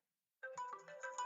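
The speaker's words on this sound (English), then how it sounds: "My phone was just ringing there." A mobile phone ringtone plays a short melodic electronic tune, starting abruptly after silence and ringing at moderate volume with no talking.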